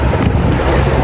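Strong wind buffets the microphone in a loud, continuous low rumble with no voices, outdoors on Corfu, Greece.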